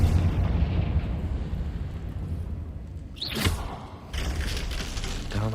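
A Confringo fire spell explodes in the Hogwarts Legacy video game: a loud, broad blast with a rumbling body, a brief sharp whoosh midway, then a renewed roar of debris and rumble.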